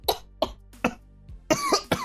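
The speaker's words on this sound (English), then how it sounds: "They down it and immediately start coughing up" Several harsh coughs from people who have just downed a foul, rancid drink, coming in quick separate bursts and then a denser run of hacking near the end, close and fairly loud.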